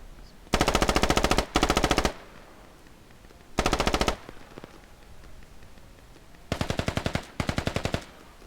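Several rapid bursts of automatic gunfire, loud and close, separated by short quiet gaps with a low background hum.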